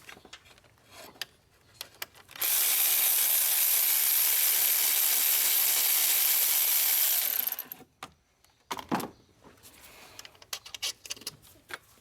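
Removing a thermostat housing bolt on a 2013 Chevy Cruze 1.8L brings a sustained, loud whirring hiss lasting about five seconds, with scattered tool clicks and clanks before and after it.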